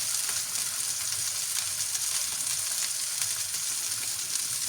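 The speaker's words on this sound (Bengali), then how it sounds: "মাছটাকে আমি এখানে ভেজে নিচ্ছি" Fish sizzling steadily in hot oil in a pan, a dense continuous crackle and hiss at close range with no voices over it.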